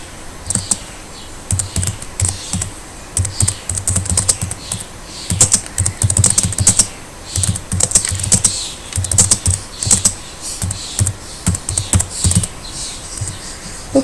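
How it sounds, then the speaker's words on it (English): Rapid, uneven clatter of typing on a computer keyboard, keys tapped in quick bursts with short pauses, close and fairly loud, no talking. "sorry, excuse my typing."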